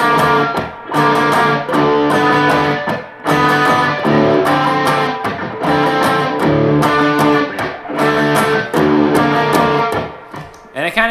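A distorted guitar and drum loop of a riff, played six over four, repeats in loud, dense, rhythmic bursts with no pauses between them.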